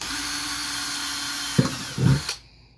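A power drill whines steadily at high speed drilling a hole in a 5-gallon bucket, then a couple of thuds and grinding bursts as the bit breaks through before the motor winds down.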